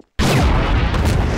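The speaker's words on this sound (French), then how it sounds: "Ouh, une explosion!" A video game explosion in Garry's Mod bursts in suddenly after a brief silence, a loud, dense, roaring blast with heavy low rumble that keeps going at full strength without fading.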